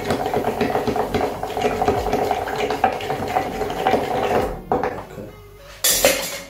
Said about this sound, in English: I'm gonna stir the drink for around 17 to 20 seconds